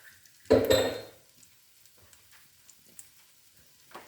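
Butter dropped into a hot pan for French toast, a sudden loud sizzle burst lasting about half a second that quickly fades, followed by quiet kitchen ambience with faint clinks.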